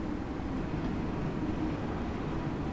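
A London Underground train in the Train Sim World 2 video game runs through a station without stopping, giving a faint, steady low rumble and hum that continues evenly with no speech.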